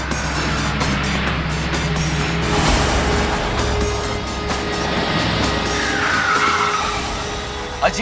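A car skidding to a stop right in front, tyres screeching over a steady engine roar that holds loud and close throughout, ending with a brief thump.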